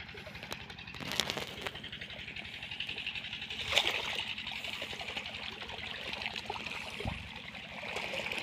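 Water from a tube well trickles and gurgles steadily into a wheat field, a faint continuous outdoor flow with a few light knocks.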